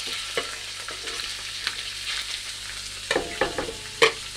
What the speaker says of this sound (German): Und dann braten wir das Ganze erstmal an.